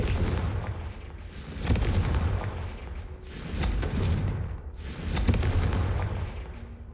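Confringo fire spell explosions in the Hogwarts Legacy video game: a series of heavy, booming blasts, each bursting loud and trailing off in a rumbling decay before the next hits, with no talking.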